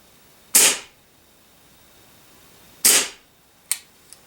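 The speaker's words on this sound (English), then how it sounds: "I'll show you how the blowback works." A KWC 1911 blowback BB/airsoft pistol fired empty on CO2: two loud, sharp pops of the slide cycling, a couple of seconds apart, then a smaller click and a faint tick.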